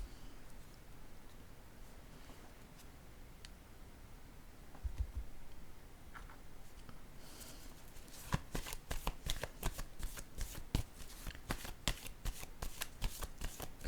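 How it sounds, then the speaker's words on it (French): Tarot cards are laid down quietly at first, then a quick run of crisp riffling shuffles follows in the second half, close and fairly soft. "Je vais déposer une carte ici."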